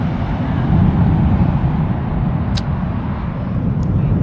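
A distant, sustained rumbling roar of Blue Angels military jets rolls on steadily with slight surges, carried over open outdoor air. A couple of faint high ticks sit above it, and no one talks.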